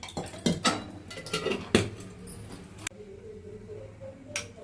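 A metal pot is set down on a stove and oil is poured in for a home-cooked lentil dish, with several close clanks and knocks of metal, then a quieter stretch and one last clink.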